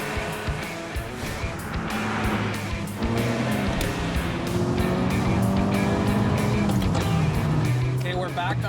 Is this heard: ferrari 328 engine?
yes